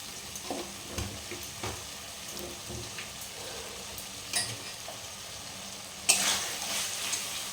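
Tomatoes frying in a pan with salt, a steady soft sizzle with occasional stirring scrapes and clinks from a utensil, and one louder clatter near the end.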